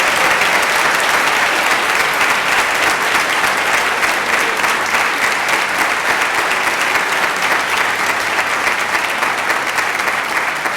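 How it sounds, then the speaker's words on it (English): Loud, continuous applause from an audience at a National Honor Society induction ceremony, many hands clapping in an even, dense roar that stays strong throughout without letting up. "please join me one more time in applauding our new National Honor Society members"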